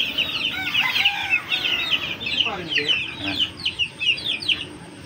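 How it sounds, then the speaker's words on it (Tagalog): Chickens and chicks on a game farm of fighting roosters, with busy overlapping clucking and high peeping throughout, a rooster call mixed in, and someone speaking briefly over the birds. "Ayun yung mga kanilang sisiw."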